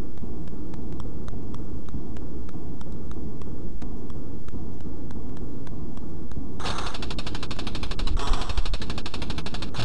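Army soldiers shooting in the C64 game The Movie Monster Game, rapid repeating electronic gunfire pulses over a constant noisy hum, growing denser and brighter near the end.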